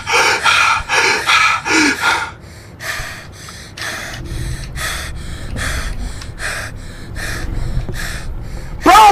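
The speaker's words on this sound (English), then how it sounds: "Y'all hear how he's breathing?" Heavy, rapid gasping breaths from a Boxer dog, a series of loud rhythmic snorting pants, then quieter intermittent breaths, and one final loud gasp at the end.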